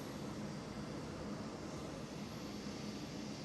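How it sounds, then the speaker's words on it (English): KLM Cityhopper Embraer E190 jet lined up on runway 24 at Amsterdam Schiphol, a faint, steady, distant engine hum and rumble that stays even from start to end. "KLM City Hopper E190 lined up on the runway 24"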